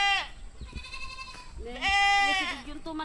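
A goat bleats loudly and nearby in two wavering calls, with a brief quieter bleat between them and a little background noise.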